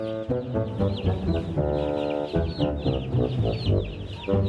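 Hens cluck in a hen coop in a children's farm cartoon, the clucking mixed with steady background music.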